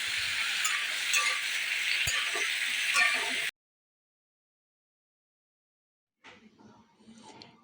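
Grated ginger, slit green chillies and chopped tomato sizzling in a pan as they are stirred, a close hissing fry for a few seconds, then silence, then faint clinks and movement.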